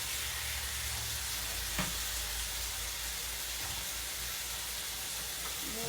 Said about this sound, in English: let's get our pork chops searing up over here